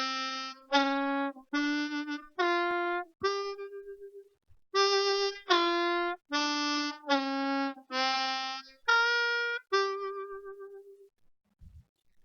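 A blues scale on harmonica, using draw notes and draw bends, with separate sustained reedy notes played one after another in two ascending-descending runs, clear and close with no voices.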